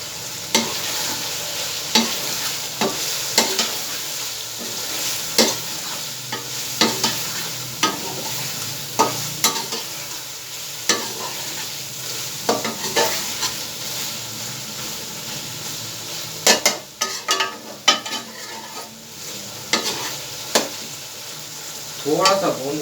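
Spice paste of ground cumin and coriander with turmeric frying in a pan for a chicken karahi gravy, with a steady sizzle broken by repeated scraping stir strokes, close and continuous, no talking.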